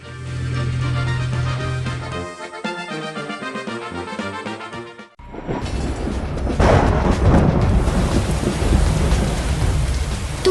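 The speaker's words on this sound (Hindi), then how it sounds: "तूफान का कहर थमने का नाम नहीं ले रहा है।" A cartoon thunderstorm: after a stretch of music, heavy rain pours down loudly and continuously with deep thunder rumbling through it, close and dense until the end.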